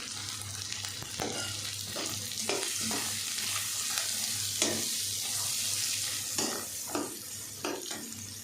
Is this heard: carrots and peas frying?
yes